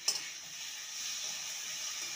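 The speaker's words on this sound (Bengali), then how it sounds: "মশলার সাথে ভালো করে নেড়ে নেব।" Spiny gourd stirred with spices in a frying pan, a steady soft sizzle with one brief clink of a utensil at the start.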